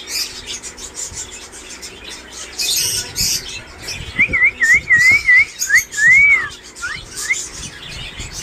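Caged parrots and other birds at a bird market call out, with scattered chirps giving way to a run of clear, rising and falling whistles and sharp tweets over a faint background hubbub.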